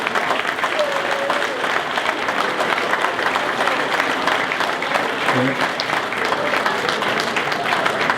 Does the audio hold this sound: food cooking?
no